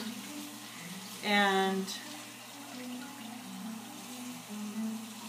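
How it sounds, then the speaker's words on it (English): A whole raw chicken is rinsed under a running kitchen tap, giving a soft, steady water hiss that continues beneath a person talking. "rinse the chicken and just make sure you get it rinsed out all over."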